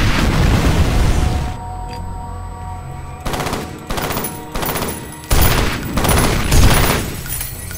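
Rockets explode and guns fire in a chaotic firefight in the shooter game F.E.A.R., with loud booming blasts arriving in repeated bursts over a continuous rumble.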